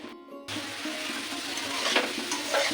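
Food frying in oil in a pan as the water cooks off, a steady broadband sizzle that starts abruptly after a brief quiet moment and holds close and continuous, with occasional brighter crackles and pops.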